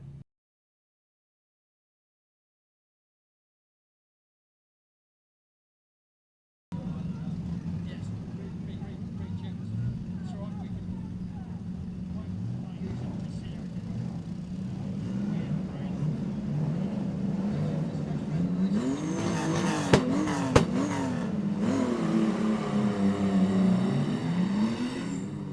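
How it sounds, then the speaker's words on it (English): Stock cars racing at Greenstone Park Speedway, a steady engine roar after several seconds of silence, swelling and sweeping as cars pass, with announcer talk over it. "stock cars out on the track"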